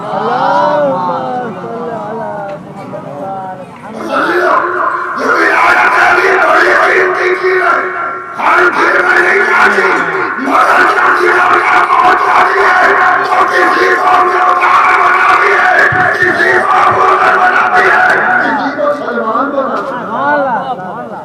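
A large congregation at a majlis shouts a religious slogan together, a loud unified crowd response that swells after a lone voice leads and holds for many seconds as massed voices.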